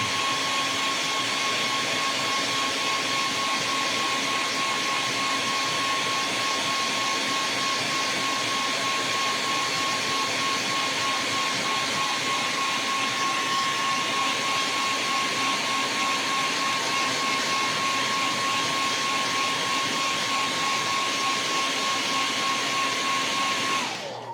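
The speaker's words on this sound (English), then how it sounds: "Get that with the hair dryer." A hair dryer blows continuously at close range, a loud steady whoosh with a high whine, cutting off at the very end.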